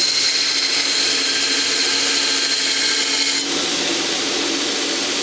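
A homemade 2x72 belt grinder grinds an old metal rasp, giving a loud, continuous abrasive roar with a slight drop in pitch and level about two thirds of the way through.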